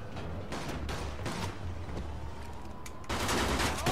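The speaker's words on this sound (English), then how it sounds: "Let's pick up a Tommy gun." Bursts of Tommy gun fire in Mafia II, loud and close, with rapid volleys recurring over a steady game background and a heavier burst near the end.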